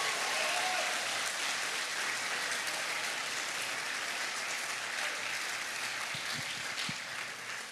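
A church congregation applauds during an evening service, a fairly faint, even wash of clapping from a distance that carries on for several seconds.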